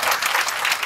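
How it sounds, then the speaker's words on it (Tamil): Audience applause at a memorial-day welfare aid event held in honour of the speaker's father, N. R. Dhanapalan; a dense, steady burst of clapping close by, lasting under a second with no voices over it. "அவருக்கு நல்ல ஒரு கைத்தட்டல் கொடுத்திருக்கேன்."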